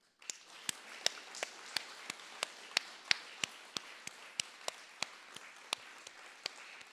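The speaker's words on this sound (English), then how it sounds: "Round of applause for Megan and everyone who has participated toni" Applause at a literary magazine launch party, sparse and fairly quiet, with sharp, evenly spaced claps standing out above a light background of hands.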